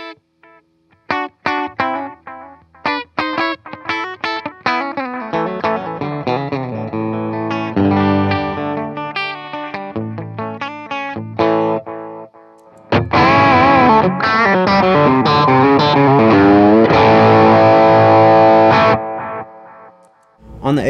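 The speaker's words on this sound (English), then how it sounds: "So now I'm gonna go just the delay." Electric guitar played through a True Tone H2O pedal with only the delay side on, single notes and chords ringing out with trailing repeats, loud and close, building to a dense strummed passage near the end.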